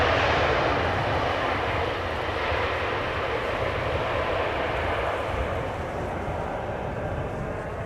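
Emirates Airbus A380 landing at Amsterdam Schiphol with thrust reversers deployed late, heard as a steady, broad, loud jet roar that holds throughout and eases only slightly toward the end.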